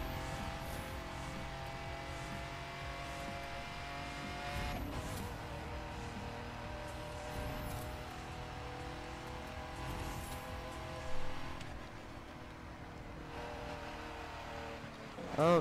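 Steady engine drone of a car driving slowly in the racing game The Crew 2, with continuous motor hum and a few louder bumps, running under background music.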